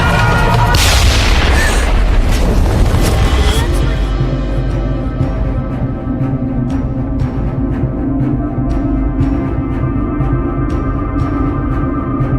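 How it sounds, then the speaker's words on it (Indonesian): A very loud explosion in a disaster film, opening with a huge booming blast and crackling debris that fades into a sustained low rumble, with a musical score and voices carrying beneath. "satu ledakan yang sangat keras terjadi."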